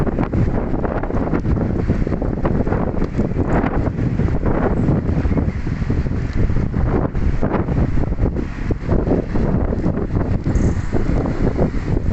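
Strong wind buffets the microphone continuously, a loud, steady roaring rumble with gusty surges throughout.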